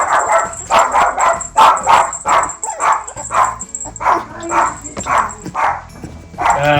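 West Highland White Terrier puppies bark in a rapid run of a dozen or so sharp, high yaps, close and loud with short gaps and a few softer whimpers between, while a faint steady tone hangs in the background.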